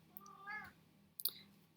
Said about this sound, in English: I have a very noisy cat here